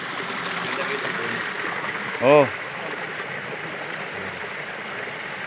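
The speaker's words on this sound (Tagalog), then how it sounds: "Nandito na kami sa ilog." River water flowing near a waterfall in Saudi Arabia, a steady rushing wash that runs evenly through the whole stretch, with a short spoken exclamation partway through.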